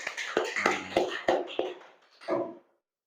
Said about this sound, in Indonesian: illallah. Tepuk tangan.